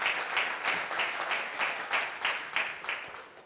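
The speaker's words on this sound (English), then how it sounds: "A round of applause for you." A leadership camp crowd in Siófok claps in unison, a rhythmic, evenly spaced beat of roughly two claps per second that stays loud and steady throughout.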